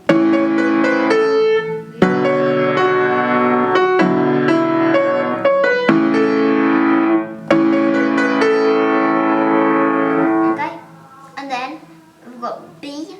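A piano playing the Scooby-Doo theme melody note by note in a steady phrase, with sustained chords ringing under it, then a few softer, scattered notes at the end.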